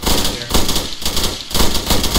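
Airsoft guns firing in sustained bursts during an outdoor team game as players push toward a house, a rapid close clatter of shots running almost continuously.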